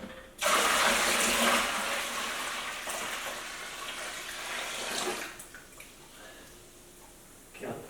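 Tap water runs loudly into a container with sugar for homemade ginger beer, a strong rush for several seconds that fades and trails off near the end.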